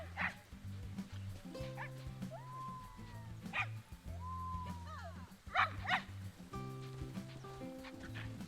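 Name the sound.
pups yipping in the video game Planet Zoo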